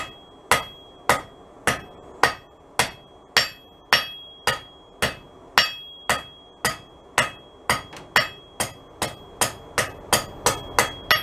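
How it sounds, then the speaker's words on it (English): A hammer strikes heated metal on the edge of an anvil while a taper is forged, about twenty sharp ringing blows in a steady, even rhythm, loud and close with brief decays between strikes. "So now I'm going to put my taper on at the edge of my anvil by rotating the piece back and forth under the hammer"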